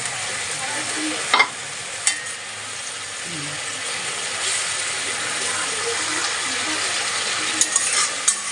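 Fish masala being sautéed in oil in a pan, a steady close sizzle with stirring, and a few sharper scrapes and clinks of the spoon against the pan along the way.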